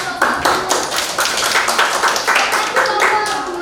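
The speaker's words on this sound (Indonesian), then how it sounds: "Beri tepuk tangan untuk kelompok" A classroom group claps for fellow students at a culinary teacher-training session: a steady patter of many hands that stays loud and close, with voices talking over it.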